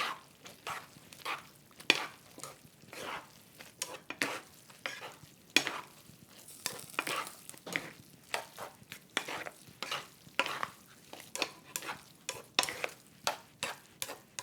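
Japchae vegetables are tossed with sesame oil in a pan, giving a string of quick, close scraping and clacking stir strokes in an irregular rhythm with a faint sizzle between them.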